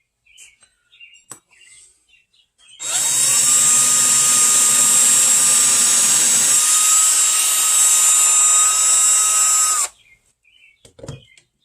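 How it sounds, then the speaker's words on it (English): A power drill whines loudly and steadily for about seven seconds while drilling a hole through a scupper plug, its pitch shifting slightly midway, with quiet taps and chirps before and after. "drill the hole all the way through"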